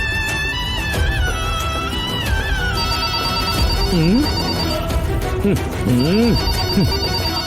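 A telephone rings with a steady electronic tone in an indoor scene from a Kannada TV serial, sounding throughout under music and talking voices.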